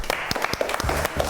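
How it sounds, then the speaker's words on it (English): Brief clapping at a primary school for the peer mediators, a short scattered burst from a small group with light talk mixed in. "give them a clap"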